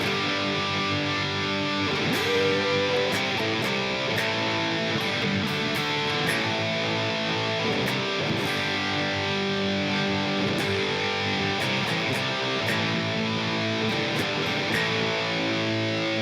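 Distorted electric guitar chugs through a chorus riff, steady palm-muted rhythm broken by accented chord hits, loud and continuous with no talking.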